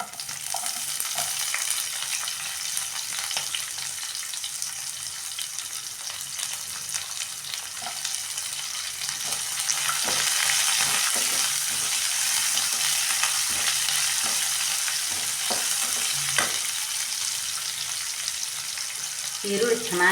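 Onions fry in a pan for a wedding-style beans palya, making a continuous close sizzle for twenty seconds, broken by repeated scraping stirs and light taps.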